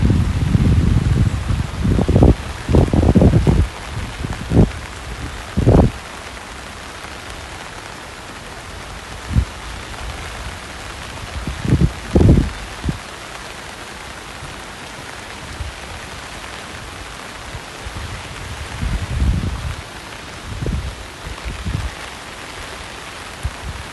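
Rain falls during a walk around Prince of Songkla University in Phuket, Thailand, a steady hiss of drops, with louder thumps and rustles from close by breaking through now and then.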